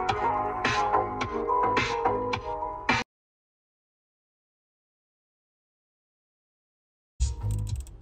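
Music plays loudly through aftermarket Blam component speakers driven by a Mega Audio head unit in a Mahindra XL6, cutting out to silence for several seconds before resuming.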